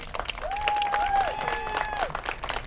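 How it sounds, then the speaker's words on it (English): A crowd at a leadership academy stole ceremony claps in a steady burst of applause lasting a few seconds, with a thin whistling tone gliding above the clapping. "let's give a round of applause to our Eagles"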